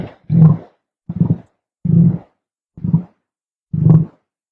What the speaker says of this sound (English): the sound of an emu.